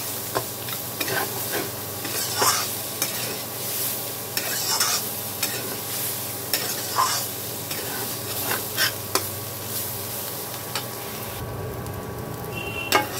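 Radish greens frying in a pan with fried eggplant and dried lentil bori, a continuous close sizzle broken by frequent scraping strokes of a spatula, with a brief lull near the end.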